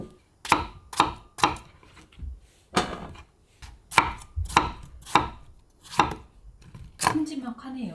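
A knife cuts a pumpkin into big chunks on a cutting board, giving about a dozen sharp, close thunks at an uneven pace. A faint scrape follows at the end, with no talking.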